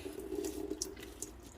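Tap water runs steadily into a kitchen sink while salted fish (fesikh) is rinsed under it, with a few brief splashes and clinks over the continuous close flow; no one talks.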